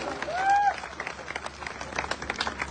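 An audience at an indoor business event breaks into applause, a crowd of hands clapping at a moderate distance, preceded by a brief whistle-like tone and murmured voices.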